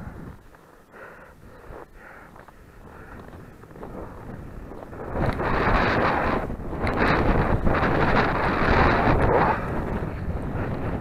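Strong winter wind buffets the microphone outdoors in a village, a dull roaring rush that is moderate at first and then grows louder and heavier for the second half, with no talking.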